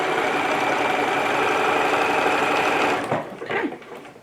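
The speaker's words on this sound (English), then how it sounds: "I'm going to go ahead and stitch and then back up and then stitch again" A sewing machine stitches a small zippered pouch in a steady, close, continuous run for about three seconds, then stops and gives a few short bursts as it backs up and stitches again.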